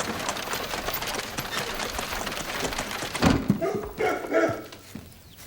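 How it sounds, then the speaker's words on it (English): Several dogs barking in a film scene, with repeated sharp barks over steady background noise, then louder clustered yelps and movement near the end. "Stroop, gather the dogs."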